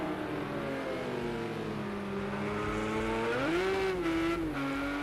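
A Ferrari and a McLaren race car in a sim racing game at Hockenheimring give a steady, droning engine whine that climbs sharply in pitch partway through as they accelerate past, with no talking.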